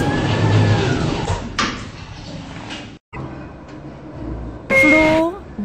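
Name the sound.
lift doors closing, Schindler 3300 lift in Roblox video game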